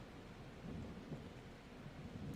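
Low rolling thunder rumbles beneath a steady hiss of rain in a video game storm, continuous and fairly faint, with the rumble swelling slightly partway through.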